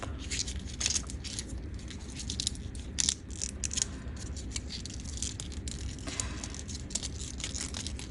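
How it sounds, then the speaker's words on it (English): Crisp crinkling and crackling of paper being crumpled by hand, continuous and close, with a few sharper rustles mixed in. "I'm going to crumple this up"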